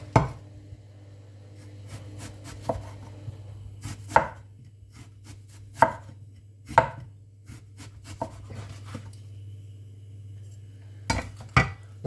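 A knife slicing an onion thin on a cutting board, with a handful of sharp, separate cuts spaced irregularly over a steady low hum and no talking.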